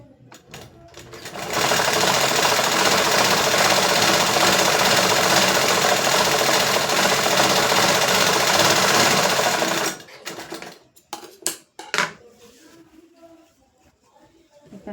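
A sewing machine stitching in one loud, continuous run of rapid rattling for about eight seconds, then stopping, followed by scattered handling knocks and clicks.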